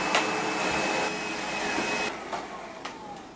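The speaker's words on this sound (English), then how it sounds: "So what we want to do is get this area properly vacuumed so we can do the service." Close, continuous whine of a vacuum cleaner working over a hotel room area, steady motor drone with a thin high tone and a few brief bumps and knocks as it moves.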